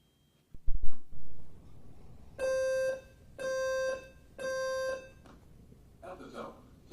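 A smoke alarm sounds its test tone as three evenly spaced, loud, piercing electronic beeps, each about half a second long, after a brief moment of talk and handling noise in an otherwise quiet room.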